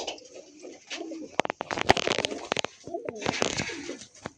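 Pigeons at a loft coo softly and repeatedly, close by, mixed with sharp wing flaps and scuffling clatter in the middle and a voice talking briefly over them.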